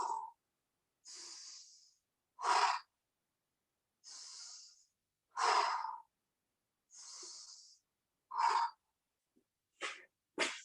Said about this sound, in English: Coming into our breath work.